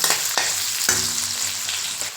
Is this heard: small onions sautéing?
yes